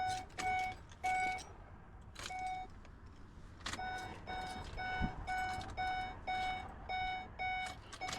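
Repeated electronic beeps chime in short bursts, pausing briefly then resuming, over a low steady hum inside a Ford E350 van that won't crank, its dashboard dark.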